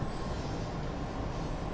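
Train rolling past with a steady rumbling wheel-and-rail roar and a faint high whine, continuous and fairly close, with no talking.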